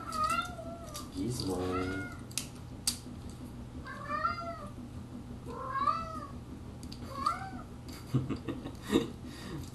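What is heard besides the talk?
cat meowing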